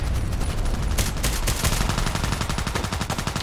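Rapid bursts of FN SCAR-H rifle gunfire in the Contract Wars shooter game, loud and close, with rhythmic repeated shots that grow more regular and dense in the second half, alone without talk.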